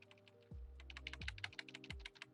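Arrow keys on a computer keyboard pressed in a quick run of close, light clicks against a low steady background tone, no talking.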